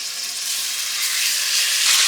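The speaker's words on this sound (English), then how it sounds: "put them in the exact same Dutch oven with all of that yummy pancetta grease in there and flavor, and we're just gonna brown them up a little bit" Chicken pieces browning in pancetta grease in a Dutch oven make a loud, close, continuous sizzle, a bright frying hiss with no talking.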